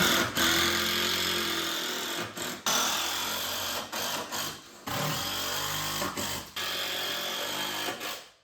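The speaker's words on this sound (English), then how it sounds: "I'm gonna screw it to the wall" A power drill drives a number 10 by 3.5 inch screw into a wall for a kitchen island base built from IKEA cabinets, whirring loudly in several long bursts with brief stops between them.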